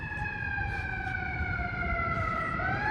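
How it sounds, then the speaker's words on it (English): An emergency vehicle's siren wails on a downtown Edmonton street, a steady, slowly falling tone held loud and close over traffic rumble for about three seconds. "Emergency vehicle going by."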